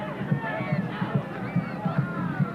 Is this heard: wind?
no